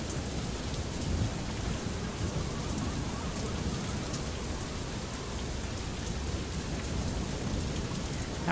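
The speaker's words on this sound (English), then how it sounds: "That rain sound is amazing." Steady heavy rain pours with distant thunder rumbling underneath in the video game FAR: Lone Sails, a dense continuous hiss with no voices.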